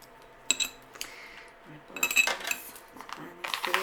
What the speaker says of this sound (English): So, put these in the jar